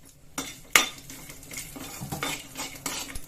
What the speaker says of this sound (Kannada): ಕಸೂರಿ ಮೇಥಿ, ಕಲ್ಲು, ಲವಂಗ, ದಾಲ್ಚಿನ್ನಿ ಎಲ್ಲಾನು ಒಟ್ಟಿಗೆ ಹಾಕೊಂಡು ಫ್ರೈ ಮಾಡ್ಕೊಂಡ್ಬಿಡ್ತೀನಿ